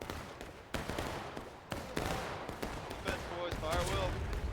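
Artillery cannon fire in a Civil War battle game, with sharp, booming shots scattered through a busy mix of distant gunfire and voices talking.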